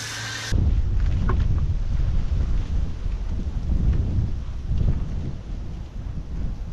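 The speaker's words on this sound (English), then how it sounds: "So let me spray it down again and give it another wash." Water from a hose spraying down a Sea-Doo personal watercraft during a wash, a steady close hiss and splatter that starts abruptly and continues without a break.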